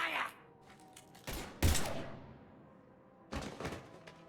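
A few sharp weapon shots and thuds burst out in a Mass Effect firefight, several separated reports with quiet gaps between them and some faint background sound.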